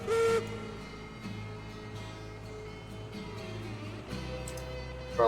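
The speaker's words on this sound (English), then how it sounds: "You can hear the whistle on the train, right?" A steam locomotive whistle in Railroads Online sounds as short tonal blasts, with one held blast at the opening and further notes later, over a low rumbling engine bed.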